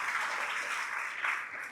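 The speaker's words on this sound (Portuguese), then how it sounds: "Vamos dar uma salva de palmas pela vida da Cláudia." Brief burst of applause from a church congregation during a Lord's Supper service, a soft, steady wash of clapping heard from some distance.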